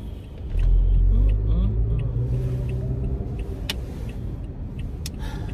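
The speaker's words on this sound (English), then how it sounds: "He was blowing at this car because this car was going to keep going." A car rumbles past close by with a swelling engine drone that peaks early and then fades into a steady road roar, while a voice talks faintly over it.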